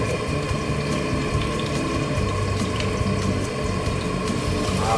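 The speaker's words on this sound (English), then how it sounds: "So you can hear some of the bubbling sizzling sound" A pot of potato and pork rib stew bubbles and sizzles steadily, a close, dense wet crackle that holds at the same level throughout, with no voices.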